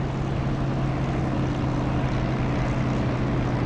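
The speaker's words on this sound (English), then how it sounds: "The engine sound gets louder because I'm getting reflected sound off the runway." A Spitfire engine in a flight simulator drones steadily on landing, a loud continuous low propeller hum with a strong steady tone and no break.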